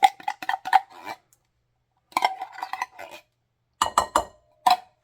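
A metal utensil scrapes and clinks against a pan while cooking a cheesy chicken broccoli casserole, ringing metallic taps in short bursts separated by silent pauses, close and clear with no talk.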